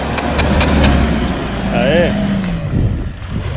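Off-road car engine revving on a steep climb in the Serra da Canastra, a loud rough rumble that swells and eases, with people shouting and talking over it.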